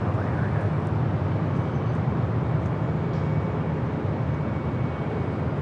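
A jet airliner at Los Angeles International Airport gives a steady, loud broadband roar throughout, a continuous engine rumble from a heavy jet on departure with no clear peaks.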